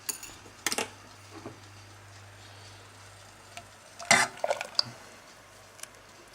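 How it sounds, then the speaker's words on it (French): A spoon stirs a brioche custard of milk and eggs in a saucepan, giving a few brief, faint clinks and scrapes against the pan over a steady low hum. "Et je remue jusqu'à ébullition et liaison."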